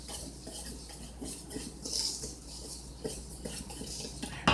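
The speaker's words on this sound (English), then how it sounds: "I'm going to whisk that together." A whisk scrapes and taps softly around a bowl, mixing sugar and salt for yeast rolls in a home kitchen, a faint, continuous stirring with light clinks.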